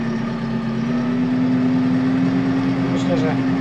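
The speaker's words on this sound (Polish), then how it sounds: "Teraz dam sobie więcej gazu, będziemy jechać pod górkę." A McCormick X5.085 compact tractor's engine runs with a steady, continuous drone as the machine accelerates uphill, loud and close throughout.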